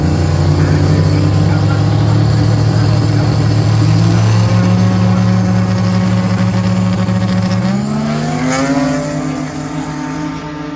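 A drag racing car makes a run at Cordova Dragway. Its loud, close engine drones at a steady high pitch, then shifts upward and fades slightly as it pulls away.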